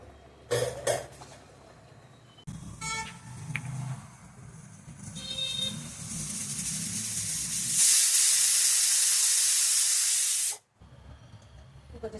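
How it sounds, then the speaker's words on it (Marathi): A kitchen pressure cooker on the stove builds up and releases steam in a long, loud hissing whistle lasting a few seconds. It cuts off sharply, and some earlier coughs and clatter come before it. "आपण दोन शिट्या काढणार आहोत"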